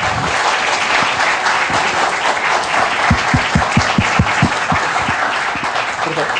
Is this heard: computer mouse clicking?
no